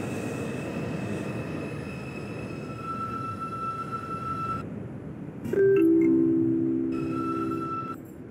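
Rumbling interior of a New York subway 5 local R142 train running in the Bronx, with electric whine tones and a sudden loud squeal of wheels or brakes partway through that slowly fades.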